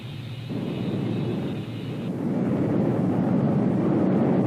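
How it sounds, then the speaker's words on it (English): Douglas A4D single-engine, single-seat attack bomber giving a loud, steady jet roar that swells slightly as it continues, heard alone with no talk. "The single-engine, single-place A4D attack bomber possesses the rugged performance qualities traditional with all aircraft designed and developed by the Douglas Company."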